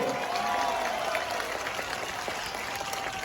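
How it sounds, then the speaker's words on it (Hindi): Applause from a large outdoor political rally crowd in Korba, Chhattisgarh, a steady dense wash of clapping throughout with faint voices underneath. "अरे जोर से ताली बजाओ"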